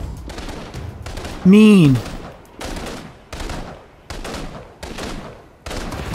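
Gunfire in the video game InFamous: Second Son, a string of sharp, loud shots at irregular intervals with a short voice over them.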